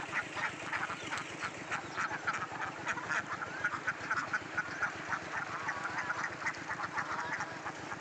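Ducks quack continuously in a farm duck pen in the morning. Many overlapping calls come in a busy, steady chatter at moderate distance, with no voices.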